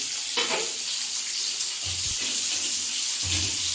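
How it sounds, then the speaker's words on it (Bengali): Boiled potatoes frying in hot oil in a home kitchen pan, with a steady sizzle and a few soft stirring scrapes and knocks, no voices. "এই তেলের মধ্যে এই সিদ্ধ করা আলুগুলো একটু ভেজে নেব"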